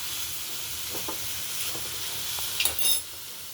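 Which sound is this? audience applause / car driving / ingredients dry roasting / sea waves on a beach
ingredients dry roasting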